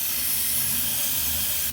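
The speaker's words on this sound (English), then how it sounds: "get some of the specific throttle body and air intake cleaner," A can of throttle body and air intake cleaner sprays into the intake of a 1993 Honda Accord LX, one loud, continuous close hiss lasting under two seconds before it cuts off sharply.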